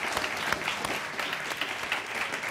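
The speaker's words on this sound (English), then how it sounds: "if we could give Professors Epstein and Ware a round of applause for joining us tonight." Brief, steady applause from an audience thanking two professors after a Supreme Court panel discussion, many hands clapping evenly at moderate distance.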